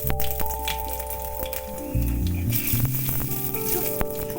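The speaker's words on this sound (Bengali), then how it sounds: "ওর মধ্যে একটু কালো জিরে ফোড়ন দিলাম" Nigella seeds hit hot oil in a pan and give off a steady, soft crackling sizzle that runs the whole time, with faint tonal sounds in the background.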